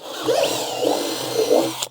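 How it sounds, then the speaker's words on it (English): A power drill runs in reverse on a farm where hay is being unloaded, giving a steady close whir with a faint rising whine and a few rough, scraping surges over about two seconds. "it drills better forward than it does reverse"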